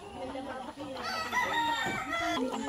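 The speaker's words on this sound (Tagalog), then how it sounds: "Ayan po ang mga manok ng mga Texas." Rooster crowing at close range from a derby-champion gamecock in a rural Philippine village in Tayabas, Quezon, one long harmonic crow rising and holding over faint background murmur.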